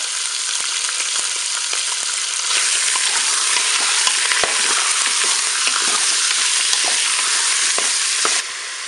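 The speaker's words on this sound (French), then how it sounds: "je vais mettre mes rables de lapin dans la cuve" Saddles of rabbit sizzle steadily in hot oil inside a Cookeo pot, a close, dense, even frying hiss with faint crackles and pops, no one talking.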